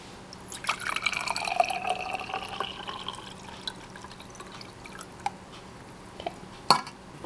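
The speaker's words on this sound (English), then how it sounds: "you're going to pour the water in" Water poured into a glass jar, a steady trickling fill for about three seconds, then fading to quieter drips and a couple of light clinks against the glass.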